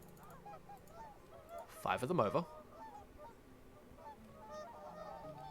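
Geese in the Settlement Survival village-building game give a short cluster of loud honks in the middle, set against a quiet game ambience with soft background bird calls and a faint speaking voice.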